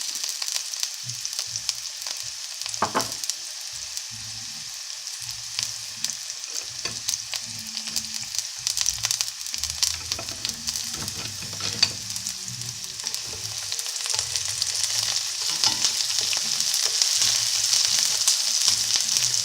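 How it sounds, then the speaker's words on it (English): Cumin seeds crackle and pop steadily in sizzling hot oil, a continuous close frying hiss with scattered sharp pops throughout. "You can hear the cumin popping,"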